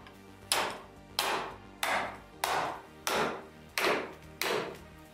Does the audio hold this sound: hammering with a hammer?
yes